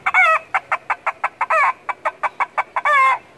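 A noisemaker made from a can imitates a hen with a quick string of sharp clucks, broken by three longer, drawn-out squawks near the start, middle and end.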